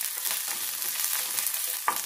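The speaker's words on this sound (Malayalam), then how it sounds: "ചുവന്നുള്ളി, പച്ചമുളക്, ഒരല്പം കറിവേപ്പില, ഇത്രയും ചേർത്തൊന്ന് വഴറ്റിയെടുക്കണം." Shallots, green chillies and curry leaves sauté in oil for a cucumber and curd curry, a bright, continuous close sizzle with stirring scrapes and a short clack near the end.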